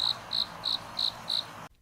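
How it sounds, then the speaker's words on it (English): Autumn crickets chirp in five evenly spaced, bright pulses, close and clear over a quiet background, before cutting off abruptly at the end. "symphony of crickets in autumn"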